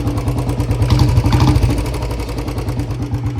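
Royal Enfield Bullet BS6 motorcycle engine running close by, a steady thumping idle with mechanical clatter, louder in the first half before settling to an even beat.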